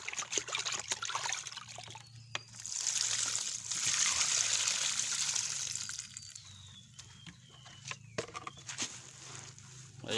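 Water trickles and splashes as it is poured into a cooking pot, close and moderately loud in uneven pulses, with handling clatter between pours.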